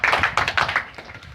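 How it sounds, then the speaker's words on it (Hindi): A short burst of hand clapping from a small gathering at an RCM shop opening ceremony, a quick uneven patter of close claps that thins out after about a second. "तो एक बार अपने आप के लिए जोरदार तालियां"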